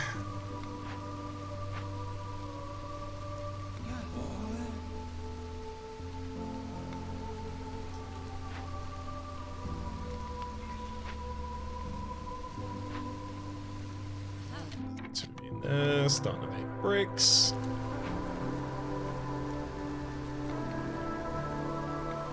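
Steady storm rain patters continuously in the colony-building game Against the Storm beneath soft sustained music tones, while someone talks briefly over it.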